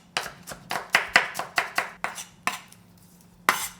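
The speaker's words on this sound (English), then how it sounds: "chop it up" A knife chops food on a cutting board in about a dozen sharp, quick knocks, close and clear, with a short pause before one final chop.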